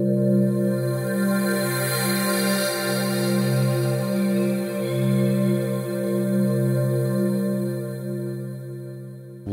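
A vintage Roland JP-8000 synthesizer plays a thick, sustained chord with steady layered tones and slight movement in pitch, loud and continuous throughout with no talking.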